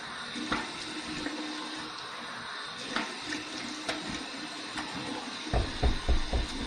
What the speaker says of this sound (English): here's my warm water rinse.